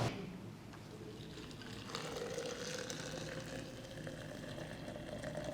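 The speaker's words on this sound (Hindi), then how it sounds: "अब आपको इसमें शामिल करना है 1 लीटर गर्मा गर्म पानी।" Hot water, about a litre, poured into a jug, giving a steady bubbling liquid rush that builds slightly partway through and runs continuously at moderate level with no voices.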